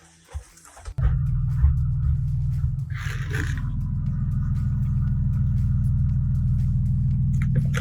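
A school bus arriving outside a family home on a weekday morning, heard as a steady, loud low engine rumble that starts suddenly and idles on without a break, with a brief whimper-like sound early on and no clear talk.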